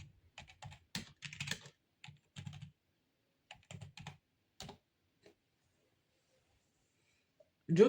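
Keys tapped on a computer keyboard in short irregular bursts, fairly close and moderately loud, followed by a quiet pause and a brief louder sound at the very end.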